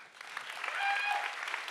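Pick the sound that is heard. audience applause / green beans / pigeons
audience applause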